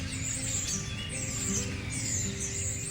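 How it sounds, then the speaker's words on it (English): Songbirds chirp outdoors in returning sunshine, quick repeated high tweets in short bursts over a steady low background hum, moderately distant and fairly soft. "Can you hear how happy these birds are with the sunlight returning?"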